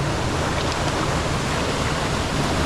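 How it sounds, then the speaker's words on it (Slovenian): A small waterfall about three metres high in a wild canyon, a dense, steady rushing roar of falling water, loud and close, with no other sounds. "Evo, še en lep slapič."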